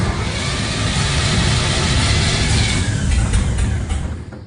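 A carbureted car engine catches on a cold start with an empty carburetor and runs with a loud, close, steady roar that thins out toward the end.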